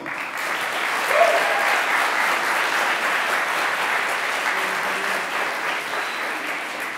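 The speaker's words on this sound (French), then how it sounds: "On l'applaudit, Julien Meymoun" An audience applauds a speaker at the final of a French public-speaking contest, steady dense clapping that swells slightly early on and carries on evenly for several seconds.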